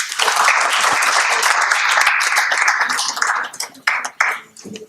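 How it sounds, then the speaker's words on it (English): Applause for a speaker at an education session on ethics and emotional intelligence, a fairly small group clapping briskly and close by, fading out with a few last separate claps. "So please give a huge round of applause"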